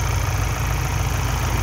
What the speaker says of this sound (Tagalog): ito pala yung tunog ng 2-liter single turbo